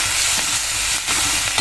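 Loud, steady sizzling as a ripe medium tomato hits onions browning in a hot pan for a chole curry, with stirring scrapes breaking through the continuous frying hiss.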